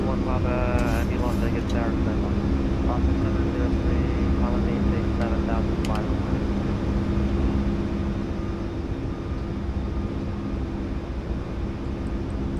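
Boeing 737 MAX 8 in a flight simulator game during a go-around on an Alaska Airlines approach, a steady loud engine and cockpit roar with a constant low drone, and talk over it throughout.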